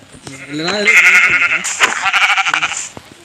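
Goats bleating close by in the video game Minecraft, several wavering bleats overlapping one after another in a quick, noisy chorus.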